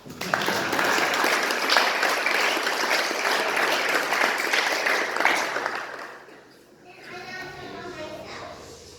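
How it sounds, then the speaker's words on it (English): A room of listeners at a youth mission trip recap presentation bursts into loud applause that fades out after about six seconds, followed by a few spoken words. "Tyler's beginning the applause."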